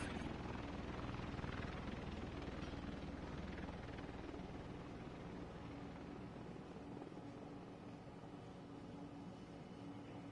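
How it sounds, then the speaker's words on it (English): An extraction helicopter in The Division 2 video game gives a faint, steady rotor drone throughout, with no speech. "Extraction helo almost within range."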